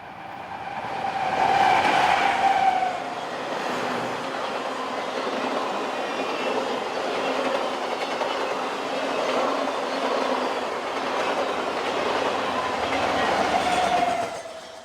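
A westbound BNSF train rolls past near Prado Dam in Southern California, a steady broad rumble of rail cars with clickety-clack wheel noise and faint squeals, swelling louder at the start and end of the pass.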